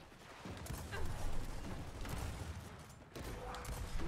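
Faint, dense gunfire from a Gears 5 match crackles in quick, overlapping bursts over several seconds, with mechanical clatter mixed in and no voices.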